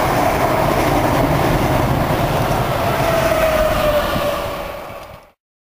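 A Norwich-bound passenger train rumbles past Needham Lake, a loud steady roar of wheels and rails with a faint whine, then quickly fades away to silence.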